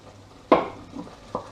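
A spoon stirring tomato curry in a cooking pot, giving one firm scrape and clatter followed by a fainter second stir a moment later, close by with no talking.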